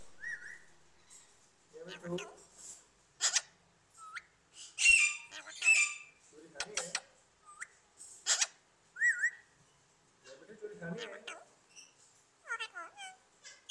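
A pet parrot at a Sunday bird market in Multan talks in short speech-like squawks and whistles. Each burst is separated by pauses and the calls are moderately close.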